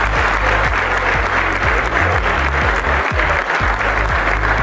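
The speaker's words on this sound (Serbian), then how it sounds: "Molimo jedan aplauz za gospodina Petrovića." Loud, steady applause from an audience welcoming football manager and head coach Slavko Petrović, a dense wash of clapping that fills the whole stretch without letting up, with low thumps beneath.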